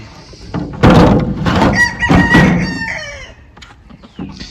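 A rooster crows loudly and close by in a storm-battered backyard, one long cock-a-doodle-doo with clucking and a faint thunk around it, and no talk.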